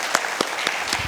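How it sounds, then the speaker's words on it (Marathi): An audience claps at a cultural arts event, a short burst of dense applause with a few louder individual claps standing out. "त्यामुळे तुमच्यासाठी टाळ्या वाजवायला हरकत नाही"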